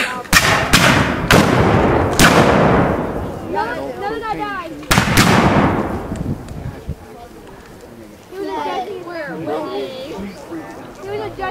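Black powder guns fire at a Seminole War reenactment at Fort Foster: several loud booming shots in quick succession, then more blasts after a pause, with people talking and shouting between volleys.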